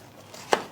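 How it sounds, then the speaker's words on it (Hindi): A single sharp knife chop through baby corn onto a cutting board, close and crisp, after a faint lighter tap. "अब हम ले रहे हैं बेबी कॉर्न, इसे हम इस तरीके से बराबर साइजों में काट लें।"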